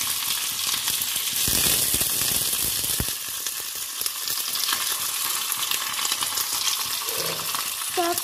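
Potato pieces frying in hot oil seasoned with panch phoron, a steady close sizzle throughout, with a brief louder crackle and a couple of light utensil clinks near the end.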